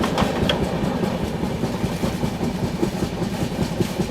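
Train rolling on the Ratlam to Delhi line via Kota while accelerating, its flat wheel knocking in a steady repeating thump over a continuous rumble of wheels and track, heard close from aboard the coach.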